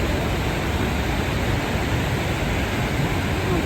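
A waterfall near Pont d'Espagne in the Pyrenees at 1,500 metres, a loud, steady, broad roar of rushing water close by with no talking.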